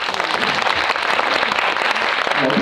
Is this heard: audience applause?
yes